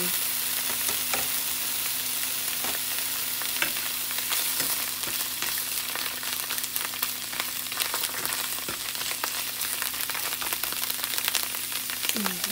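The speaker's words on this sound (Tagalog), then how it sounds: "Tapos igigisa ko muna to para masarap siya." Food sautéing in a hot pan, a steady loud sizzle with scattered pops and occasional scrapes of stirring running throughout.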